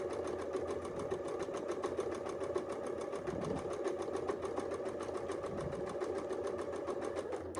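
A sewing machine runs steadily through free-motion quilting with ruler work, its rapid needle stitching forming a continuous, even mechanical rattle at close range for the whole stretch, with no talking.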